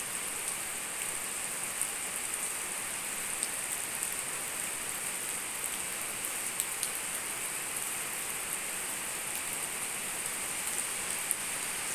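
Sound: rain falling

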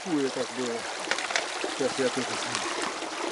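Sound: mountain stream flowing over the road

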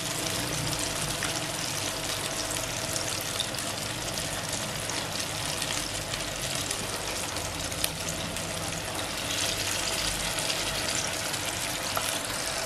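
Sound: frying tofu and egg in hot oil

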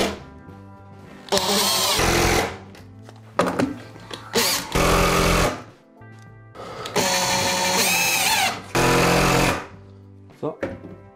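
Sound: screwing down Douglas fir terrace decking boards with a power drill

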